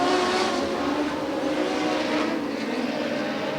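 Dwarf cars roaring together at the green-flag start of the A main event, a dense, steady engine drone with rising harmonics, loud and continuous throughout.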